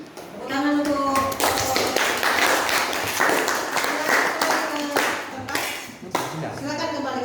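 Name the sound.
audience clapping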